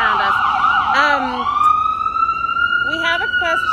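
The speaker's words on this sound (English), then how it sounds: "So our first siren" Emergency vehicle siren wailing on a New York street near Methodist Hospital, a loud rising and falling tone that sweeps up and holds, then breaks into rapid yelping pulses near the end, with people talking faintly underneath.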